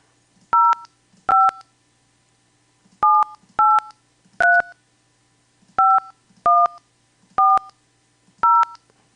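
A telephone keypad dialing a number, heard as a series of about ten crisp, loud dual-tone beeps at uneven intervals against a near-silent background.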